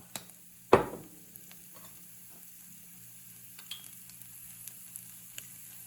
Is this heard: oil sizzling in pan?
yes